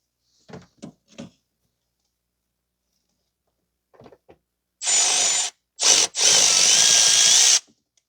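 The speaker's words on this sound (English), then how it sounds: "I'm trying to get that bolt out from the corner here." A power tool works a bolt loose on a 2010 Toyota Corolla 1.8. A few light metallic clicks come first, then three loud whirring bursts close by, the last one held for almost two seconds.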